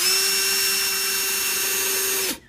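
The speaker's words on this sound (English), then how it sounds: "you got to drill some pilot holes now," A power drill bores pilot holes into wood for a flower box, a steady high whine that runs evenly for about two seconds and then winds down abruptly, with no voices.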